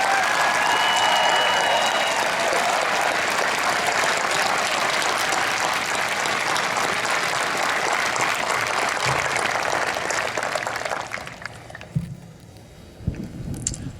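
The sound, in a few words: crowd applause at Coast Guard Academy commencement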